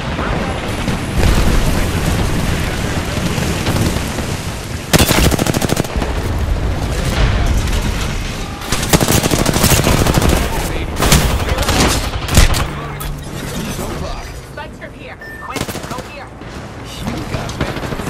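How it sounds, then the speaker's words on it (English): Rapid gunfire and booming blasts from a firefight in the battle royale game Apex Legends, loud bursts of automatic shots repeating close up across the whole stretch, with talk at times over the shooting. "Shots fired."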